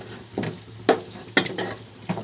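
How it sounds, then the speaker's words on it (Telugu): Prawns being stirred in a cooking pan, with several distinct scraping and clinking stir strokes spaced about half a second apart over a soft background sizzle, close and fairly loud. "ఇప్పుడు దీన్ని బాగా కలుపుకుందాం."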